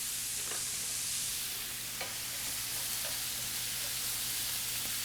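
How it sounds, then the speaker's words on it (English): Onions and garlic sauteing in a pan on a cottage kitchen burner, a soft, even hiss with faint crackles running steadily and quietly for a few seconds, with no voices. "I'm just gonna quickly saute this off, just like moments, just till the onions become translucent."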